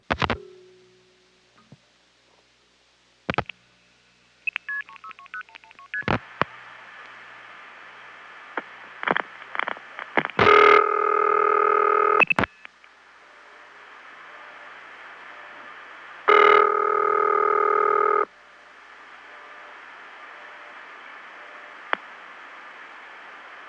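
Repeated telephone switchhook flashes on a long-distance call, heard as clicks and pops on a hissy phone line, with two long bursts of harsh buzzing tone, no voices.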